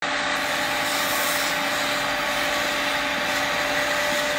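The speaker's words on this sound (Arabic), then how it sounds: "فانا قاعد اغسل بالبخار، يعني بالحراره العاليه، تعقيم وغسيل في نفس الوقت." A steady, loud mechanical hiss and hum from a Bissell steam fabric cleaner running continuously on car upholstery, with no pauses or talking.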